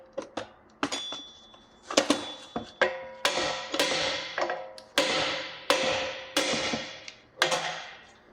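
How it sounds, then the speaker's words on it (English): Hammer knocking a rear control arm bushing off, with about a dozen sharp metallic strikes at a steady pace, each ringing briefly, loud and close. "we just knocked this off with the hammer"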